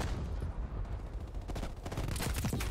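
Gunfire in the video game Black Ops Cold War, rapid bursts of shots cracking in quick succession over a busy battlefield din, growing denser and louder toward the end, no talking.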